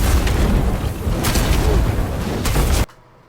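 Fiery blasts from Hammer of Sol hammers in the video game Destiny, a loud, dense rumble of explosions with sharper impacts near the one- and two-and-a-half-second marks, then a sudden cut to near silence.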